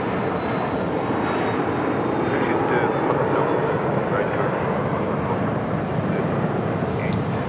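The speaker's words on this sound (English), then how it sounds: "This is NetJets 522 taking off to Van Nuys on a Cessna Citation Latitude." A NetJets Cessna Citation Latitude business jet takes off at Los Angeles International Airport, its engines roaring steadily and loud throughout, a broad, sustained rush with no voices over it.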